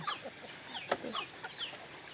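Backyard chickens kept for food cluck and chatter in a series of short, scratchy calls during a morning feeding routine, fairly close and steady with light outdoor background noise.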